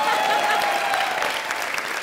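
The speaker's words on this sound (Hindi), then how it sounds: "तू क्यों रुक गया ताली बजाते हुए?" An audience claps in a steady, dense burst for about two seconds, loud and close, with faint voices mixed underneath.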